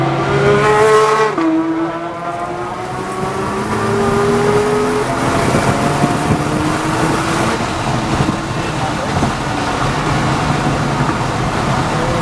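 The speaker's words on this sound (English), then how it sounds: "this time we're going to let a car go by on the straightaway" Real-life supercars on a race track, such as a Ferrari 296 GTB or Lamborghini Huracán: a loud, close engine drone while another car passes on the straightaway, with rising and falling pitch, shifting revs and steady road roar.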